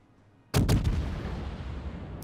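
Naval artillery fire in the video game World of Warships, a single sudden loud boom with a couple of quick cracks followed by a long rumbling decay.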